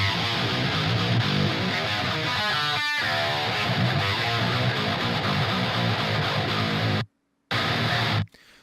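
Heavy, distorted electric guitar tracks play loud and dense, before and after cleanup, with a thick, saturated wall of tone, a brief break near the end, then a short return.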